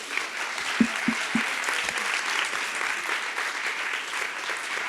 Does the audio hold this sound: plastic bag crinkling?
no